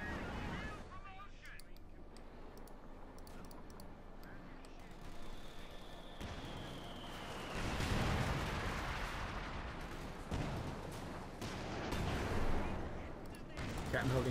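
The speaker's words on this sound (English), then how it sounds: "Panzer IV opening up." A Panzer IV tank fires in Company of Heroes 2, its cannon blasts and surrounding gunfire booming at mid-distance beneath continuous commentary from a caster, with bursts swelling in a cluster near the middle and again toward the end.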